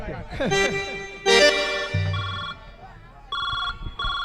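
A telephone ringing on an outgoing call, bright electronic ringback tones repeating in short bursts, heard close and fairly loud after some brief background sounds.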